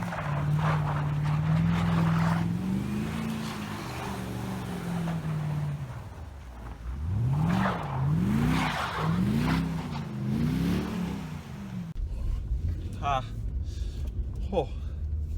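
A Mercedes CLK55 AMG drifts with tires skidding and squealing in long wavering sweeps, the pitch rising and falling through several slides as the engine works underneath, with people talking over it.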